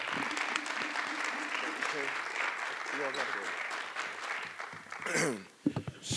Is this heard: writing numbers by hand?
no